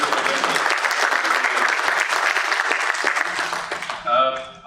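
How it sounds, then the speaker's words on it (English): An audience at an SME manufacturers and exporters summit's inaugural session gives a loud, full round of applause that keeps going for about four seconds, then thins out and fades as a voice starts near the end. "big round of applause for all of you."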